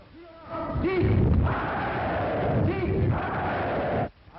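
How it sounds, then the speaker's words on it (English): A large crowd at a leaders' rally applauds and cheers in unison, a loud sustained roar that swells twice and then drops away abruptly. "Applauding on cue the words of the leaders."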